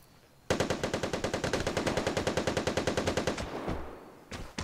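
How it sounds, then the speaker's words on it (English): A rapid burst of automatic gunfire from the video game Vigor, about thirty evenly spaced shots for three seconds, loud and close, then a couple of fainter trailing shots. "Because some more gunshots rang out"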